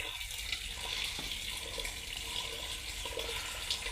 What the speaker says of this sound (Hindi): तो उसमें पानी डाल दो जिसमें चावल गरम किए थे ना जी,